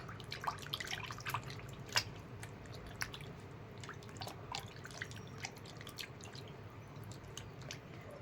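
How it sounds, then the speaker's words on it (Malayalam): Soft dripping and splashing of hot water as feet are washed, with small wet squishes, close and quiet, continuing intermittently without talk. "ചൂടും വെള്ളം കൊണ്ടാണ് ഞാൻ കാല് കഴുകുന്നത്"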